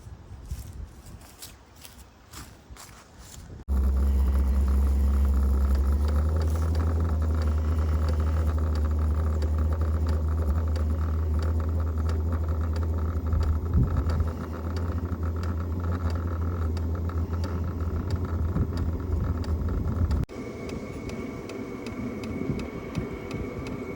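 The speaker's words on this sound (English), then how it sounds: "So it's now powered up, and the unit is on, and it's going to start injecting this with diesel fuel." A Hcalory toolbox diesel heater powers up, then runs with a steady low hum and fan drone while its fuel pump starts injecting diesel, a faint ticking in the background; the tone shifts slightly near the end.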